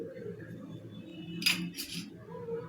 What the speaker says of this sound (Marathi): याच्यामध्ये आता मी एक चमचा दही टाकत आहे